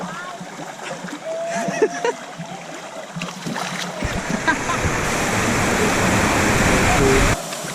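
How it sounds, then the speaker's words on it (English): Rushing waterfall at a water park in Belle Mare, Mauritius, a steady roaring wash of falling water that swells louder toward the end, with people talking over it. "So pretty much this is the waterfall."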